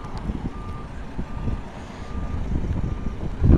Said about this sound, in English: That over there is a PlayStation truck.